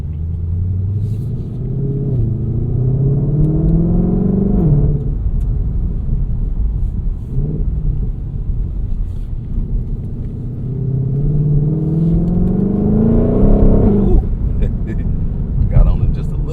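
A Ford Mustang GT500 engine revs and rumbles under acceleration as heard from inside the cabin, rising in pitch twice in long pulls, with a voice talking over it.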